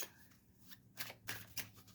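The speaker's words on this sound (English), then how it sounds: "I am shuffling slightly out of frame just because of how the setup is" Tarot cards being shuffled close to the microphone, a few quick riffling bursts in the second half, quiet with no talk.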